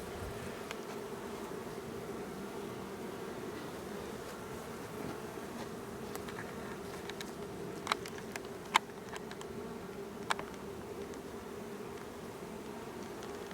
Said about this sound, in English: Those are the bees I've got.